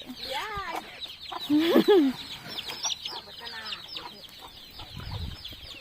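Chickens cluck and squawk close by, with one loud rising call standing out, amid a busy scatter of other bird noises.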